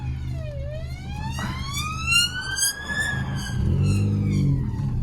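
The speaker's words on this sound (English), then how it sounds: "I've never ever had an ambulance come behind me for here." Ambulance siren wailing in rising and falling sweeps as it comes up behind a Ford Fiesta ST on the road, loud and clear over the steady rumble of the car's engine and road noise.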